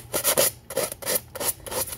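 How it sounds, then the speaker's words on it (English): Rhythmic rasping strokes of hand sanding on a vintage chainsaw's plastic housing, about eight back-and-forth scrapes in a steady pattern, close and crisp with brief pauses between them. "just rough it all up, sand it, scratch it"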